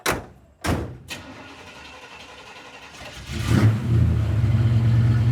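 An old car engine cranks in a few bursts, struggles briefly, then catches and settles into a steady, rumbling idle nearby.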